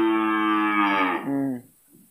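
A single long, loud cow moo rings out close by at a cattle market among young heifers in Wonogiri, the drawn-out call dropping in pitch before cutting off, followed by a brief faint sound.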